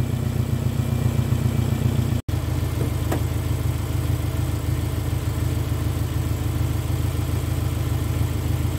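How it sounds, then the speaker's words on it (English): A 2009 Subaru Impreza 2.5 idling with a loud exhaust leak, giving a steady low, throbbing engine drone with a fast rhythmic puffing, constant and close throughout. "The exhaust leak is pretty loud."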